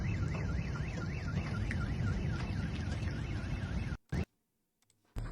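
A Russian car alarm on a street wails in a rapid up-and-down warbling siren, loud and steady, then abruptly stops, leaving near silence with a couple of faint clicks.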